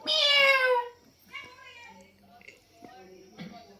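A voice imitates a cat, a long bright meow at the start followed by softer sung meow-like calls.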